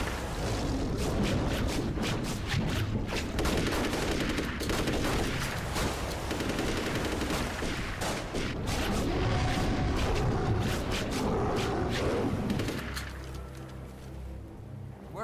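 Gunfire aimed at a shark in a horror science-fiction film: a loud, sustained volley of overlapping rapid shots and booms that continues for several seconds, then thins out and fades near the end.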